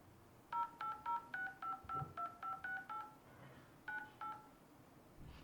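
Keypad dialing tones on an Apple Watch Series 9 as a number is typed: a quick run of about a dozen short, evenly spaced dual-pitch beeps, a brief pause, then two more, clear and close with no talk.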